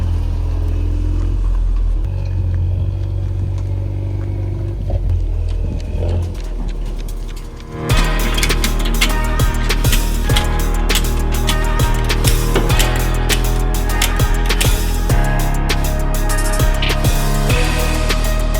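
Ford Focus RS on the road, heading to a dyno test: a steady droning engine and road noise that turns abruptly louder and harsher midway, with busy rattles and clicks over a constant low rumble.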